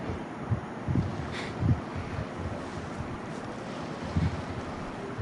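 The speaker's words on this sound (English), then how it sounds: "Already we are hearing sounds. There's water. There's ice." Water washes and sloshes with soft splashes and intermittent low thumps against a constant windy rush, moderately close and without voices.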